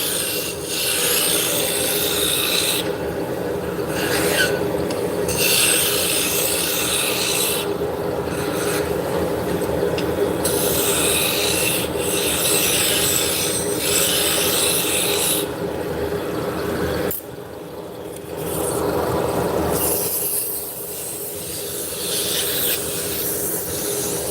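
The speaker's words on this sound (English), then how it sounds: "we are turning hard maple" Hard maple being turned on a lathe into Turkish spindle shafts, a loud continuous scraping rub with rhythmic bursts of the cutting tool engaging the wood, separated by brief lighter pauses, close up with no talking.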